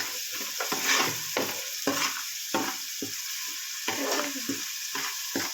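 Fish curry masala for a village-style fish pulusu gets stirred in a sizzling pan, a spoon scraping in quick repeated strokes over a constant close frying hiss.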